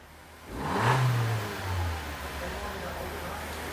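A car engine under diagnostic testing revs up once to a brief peak, then settles into a steady, higher idle hum, heard close with no talking.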